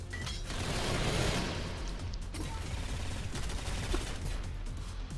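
Rapid automatic gunfire in the video game Synthetik, a dense continuous clatter of shots with mechanical rattling, loud and steady throughout with no clear gaps.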